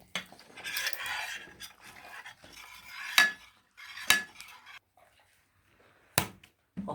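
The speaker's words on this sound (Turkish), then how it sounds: "Şimdi karıştır. Önce karıştıracağım." A utensil stirs a slime mixture in a bowl, giving quiet, irregular scraping and a few sharp clinks against the container, with pauses between.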